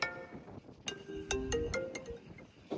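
A phone ringtone plays a short electronic melody of bright repeating tones, clear and close, with no talking over it.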